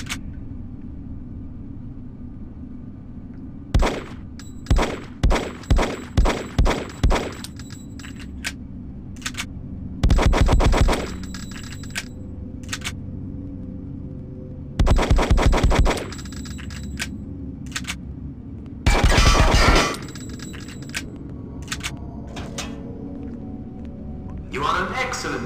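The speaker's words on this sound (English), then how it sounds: "Now for some target and reloading practice, step over to the shooting range." A handgun fired at a training shooting range in Hitman: Codename 47, a quick series of six evenly spaced shots followed by sparse single shots and several longer bursts of loud mechanical noise, with quiet gaps in between.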